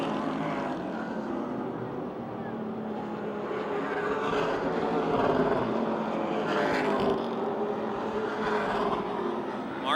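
Race cars lapping Motordrome Speedway in a 2010 race, engines droning and rising in distant passes over a continuous roar, with faint crowd and track ambience.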